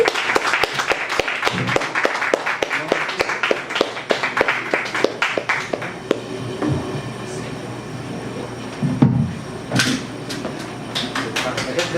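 An audience at a poetry reading night claps in a burst of sharp, dense applause that thins out after several seconds, followed by scattered voices talking.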